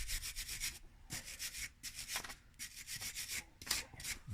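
A small brush scrubs rear brake parts during a disc and pad change, making repeated short, fairly close rubbing strokes in a steady back-and-forth rhythm with no talking.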